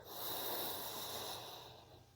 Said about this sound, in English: and then another breath